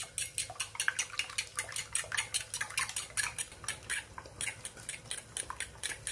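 Eggs seasoned with pepper powder and salt being beaten in a bowl, a fast steady clinking and whisking rhythm of utensil against the bowl, close and unbroken, with no voices.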